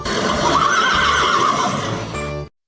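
A horse neighs in one long, loud, quavering whinny heard close and alone, ending abruptly in silence.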